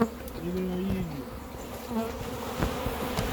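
Bees buzz steadily around an opened hive, a close, continuous drone with a few wavering tones rising and falling over outdoor background noise.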